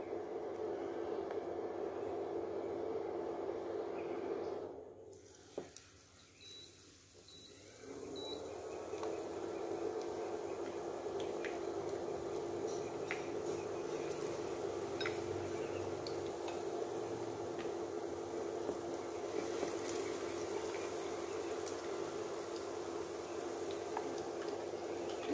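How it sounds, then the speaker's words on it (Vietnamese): Steady broadband sizzle of battered oyster mushrooms frying in hot oil, continuous and close, with a brief dip in the crackling partway through. "bây giờ mình sẽ nhanh lăn bột nấm bào ngư mình chiên"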